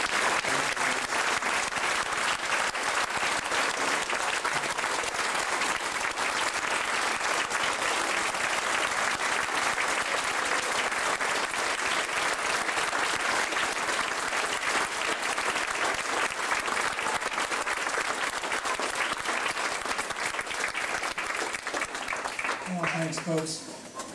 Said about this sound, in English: I think it'd be appropriate to give a big round of applause for 25 years